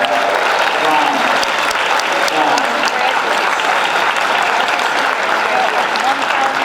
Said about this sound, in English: Can we give all these students a big round of applause?